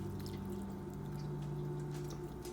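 Water trickles and splashes faintly onto the dry soil of a potted fig tree indoors, a soft continuous pour lasting a couple of seconds with light dripping over a quiet background hum.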